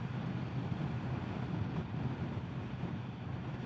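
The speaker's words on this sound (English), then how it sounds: "Right now in all this wind at highway speed" Wind roars across the microphone while riding a 2025 Indian Scout 101 motorcycle at highway speed, a dense, continuous low buffeting rush that fills the whole moment with no voices on top.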